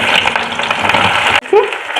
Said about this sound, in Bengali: পেঁয়াজগুলো ভাজা হোক